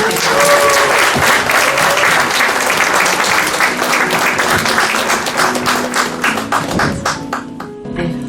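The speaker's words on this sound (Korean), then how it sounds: "여러분 세 분께 다시 한번 큰 박수 부탁드립니다." Loud, sustained applause from a book-concert audience, dense clapping continuing steadily throughout and thinning slightly near the end.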